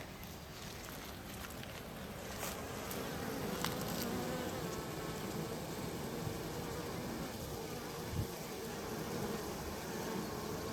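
Bees buzz around beehive boxes at a nature preserve by Cape Island Creek, a continuous, faint swarm drone with individual insects whirring close to the listener now and then.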